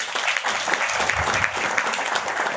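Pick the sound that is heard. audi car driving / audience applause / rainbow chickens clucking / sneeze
audience applause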